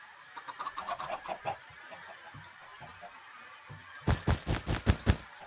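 A chicken in the video game Minecraft clucks in two runs of short rhythmic clucks, a softer series first and then a louder, clearer burst, with no talking.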